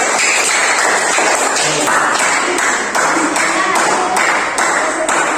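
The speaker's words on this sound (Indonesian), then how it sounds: "Oke, silakan duduk, tepuk tangan untuk teman-teman kelompok." A classroom claps for a group of students who have just presented, fairly loud, dense clapping running throughout with a regular pulsing rhythm.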